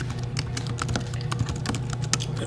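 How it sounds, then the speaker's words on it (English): Keys on a computer keyboard are tapped in a quick, irregular run of light clicks, close and fairly quiet, with no talking. "Here, type in your email address."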